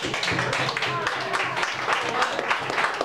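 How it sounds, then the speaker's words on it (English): A small open-mic club audience gives a round of applause, scattered and moderately close handclaps mixed with a speaking voice. "I want to give you a round of applause"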